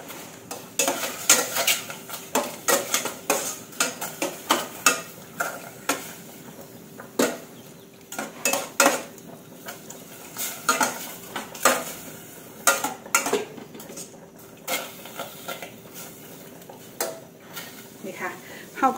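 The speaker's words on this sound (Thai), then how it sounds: "ก็ล้วนตับจนกว่าตับสุกค่ะแล้วค่อยมาปรุงค่ะ" Sliced liver being stirred with a little water in a pot while cooking a Thai Isan sweet-liver dish: close, irregular clinks and scrapes of a utensil against the pot, with a soft sizzle underneath.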